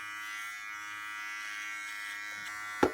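A Manscaped Lawnmower 3.0 electric shaver buzzes steadily and close while shaving hair, a constant high-pitched motor whine with a sharp brief knock near the end.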